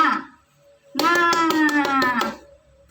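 A teacher demonstrates the tepuk semangat clapping routine in a classroom, chanting as she claps a quick patterned burst of several hand claps after a short spoken count-in.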